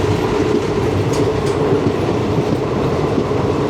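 Steady rumble and rhythmic clickety-clack of the 22652 Chennai Superfast running between Palakkad and Palani, heard from inside a First AC coach, continuous and fairly loud with no voices.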